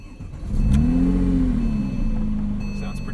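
A Porsche 997.1 911 GT3 fires up with a starter whir, then its engine flares in a loud rising rev that eases back down and settles into a throaty, close idle.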